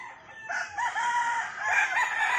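A yellow-legged bullstag fighting cock crows once, a clear, fairly close drawn-out call rising and wavering over quiet background.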